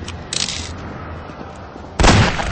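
Two loud, blasting gunshot bursts from Half-Life 2 gameplay, one short and one longer, stand out close and harsh over a low rumbling background.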